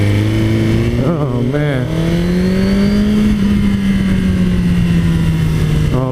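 A 2017 Suzuki GSX-R 1000R motorcycle engine idles loudly up close and then revs in a couple of short blips before settling into a rising drone, with someone speaking briefly over it.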